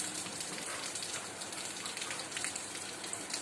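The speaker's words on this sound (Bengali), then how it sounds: "এখন বৃষ্টি শুরু হয়ে গেছে" Rain falls steadily outdoors in a dense, even hiss of drops on surfaces, continuous and moderately loud with no voices.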